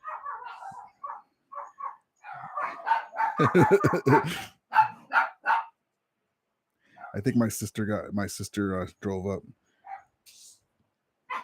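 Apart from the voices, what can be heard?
dogs barking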